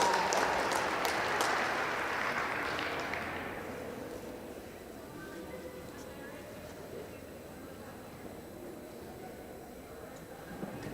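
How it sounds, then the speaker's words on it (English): A crowd claps for kids at a county youth livestock poultry show, with loud applause that fades out over a few seconds and leaves quieter background noise from an indoor show hall. "Let's give all these kids a big round of applause."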